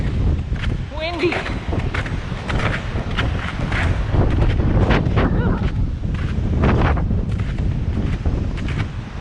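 Strong wind sweeping across a mountain bushwhack near a hiking trail, roaring steadily against the microphone in heavy gusts, with faint voices breaking through now and then.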